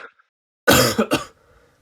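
A single throat-clearing cough, close and fairly loud, a short rasping burst followed by a brief second catch, with quiet around it.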